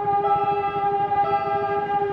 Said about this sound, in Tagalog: kung naririnig nyo ang malakas na bosina